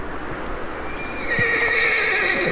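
A horse whinnies loudly and close with hoofbeats clopping underneath in Red Dead Redemption 2, the high neigh rising in the latter half.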